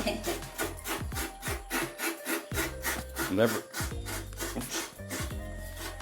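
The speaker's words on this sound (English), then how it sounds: "She's gonna scrape the coconut out." Fresh coconut meat being scraped out by hand on a traditional sit-on wooden scraper in a mountain kitchen, a steady run of rhythmic rasping strokes, close and fairly loud, with no talk over it.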